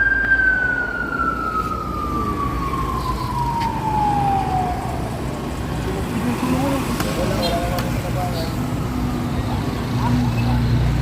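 A fire truck siren wails at a fire scene, one long descending tone fading over several seconds against a steady broadband roar of crowd and traffic noise, moderately loud throughout.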